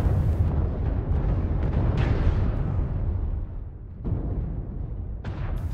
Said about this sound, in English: Airstrikes going off.